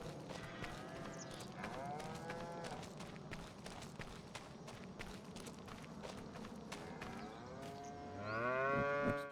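Angus cattle in Farming Simulator 25 lowing repeatedly, several drawn-out moos from different animals near and far, with a louder close moo at the end over a steady farmyard background and light footstep patter.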